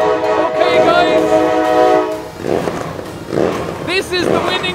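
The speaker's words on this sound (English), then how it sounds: "This truck has the loudest exhaust at 113 decibels, just over." The winning truck at an Irish truck show, the one with the loudest exhaust at just over 113 decibels, blasts a long, loud air horn. Shorter roaring bursts follow, with voices talking around it.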